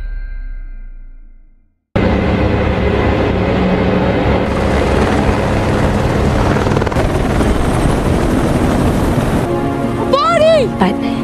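A helicopter roars steadily and loudly from close by after a quiet opening, with its dense rotor and engine noise running unbroken, and brief voices and a warbling tone appear near the end.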